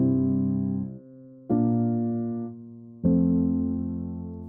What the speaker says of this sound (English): So we lower the 7th by a half step and build a major chord on top of it.